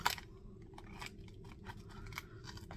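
A mail envelope torn and cut open close by, a sharp snip at the start followed by soft papery rustles and small crinkles, quiet and without talk.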